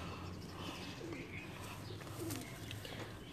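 Breeder pigeons in a loft cooing softly, low murmuring coos set under a steady wash of background noise with a faint chirp or two.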